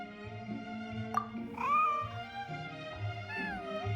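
A cartoonish cat meows twice in the video game Genshin Impact, each meow a rising-and-falling tonal call over steady soft game music with a gentle plucked rhythm.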